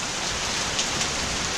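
A short stretch of steady outdoor rain, a dense, uniform patter of drops on surfaces, close and unbroken, with no one speaking.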